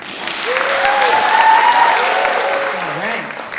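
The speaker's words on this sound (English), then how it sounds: "Let's give her another round of applause." Audience applause after a live poetry performance, a steady wash of clapping that swells toward the middle and tapers slightly near the end, with a few scattered voices calling out over it.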